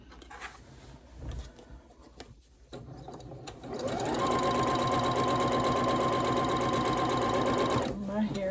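A sewing machine runs at a fast, steady pace, stitching a quilt sashing strip for a gnome block. Its close mechanical whir holds for several seconds after some brief handling noises and stops near the end.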